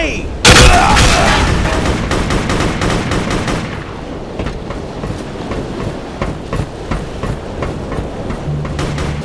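Video game combat with a grenade blast followed by rapid bursts of gunfire, loud and close, repeating in uneven volleys.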